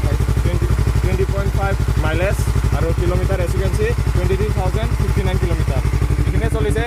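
A 2019 inline-two 300cc motorcycle engine runs steadily up close with a loud, even pulsing throb, a few brief rises in pitch riding over the rhythm.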